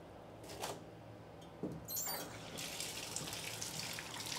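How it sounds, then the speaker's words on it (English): Running water rinses grime off something in a bathtub, a steady splashing wash with a brief louder gush partway through, no talking. "And rinse it off in the tub over here."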